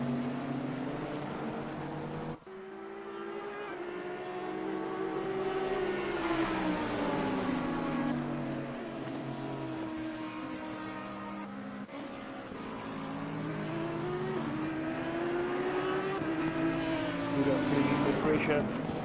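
Racing cars including an Audi at Kyalami in a sim racing video game, a continuous high engine whine rising and falling with gear changes, under steady commentary.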